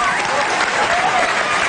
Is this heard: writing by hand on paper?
no